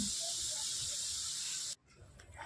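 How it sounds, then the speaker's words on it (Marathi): Steady hiss of dal boiling in a small pot on the stove, loud and close for nearly two seconds, then cut off abruptly and followed by quieter, uneven bubbling sounds. "उकळी येत आहे"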